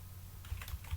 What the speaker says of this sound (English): we can just type in here